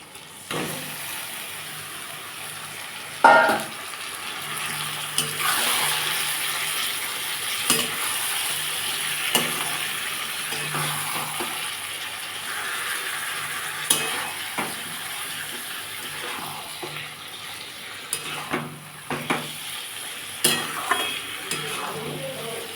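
Marinated country chicken, coated with chilli, cumin and turmeric, sizzles in oil while a spoon stirs it, with a steady frying hiss broken by intermittent clanks and scrapes against the pot.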